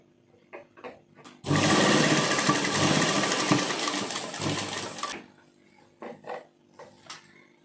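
A sewing machine stitches a lace collar for a kurti in one loud, continuous burst of rapid mechanical chatter lasting several seconds, framed by faint handling clicks and rustles of fabric before and after.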